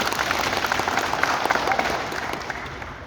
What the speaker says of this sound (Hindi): एक बार तालियां हो जाएंगी